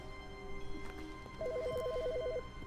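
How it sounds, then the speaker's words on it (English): A telephone rings in The Stanley Parable video game, a faint electronic warbling ring lasting about a second over quiet room tone. "Phone? Phone!"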